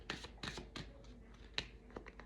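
Tarot cards shuffled by hand during a love reading, a few crisp riffling bursts in quick succession followed by a lone sharp snap of cards, close and clear with no talking.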